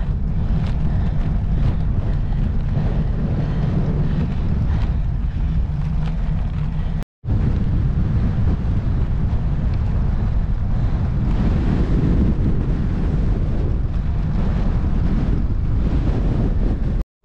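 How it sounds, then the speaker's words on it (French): Strong, gusty headwind buffeting the microphone during a long-distance bike ride, a constant low roar with a brief cut-out partway through. "aujourd'hui, gros vent de face"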